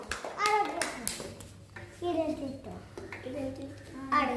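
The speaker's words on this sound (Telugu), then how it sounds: "ఓకే, క్లాప్స్ కొట్టండి పిల్లలు." Children clap in a school classroom during a logic puzzle activity, with short bursts of hand claps mixed with children's voices and an adult speaking between them.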